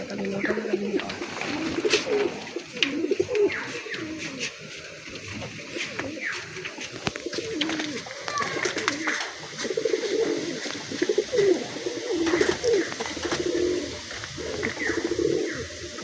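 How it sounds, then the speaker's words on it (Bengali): Matrazi pigeons coo steadily in overlapping low, rolling calls, close by, with a few faint chirps and little talk. "এই ম্যাটরাজি পায়রা।"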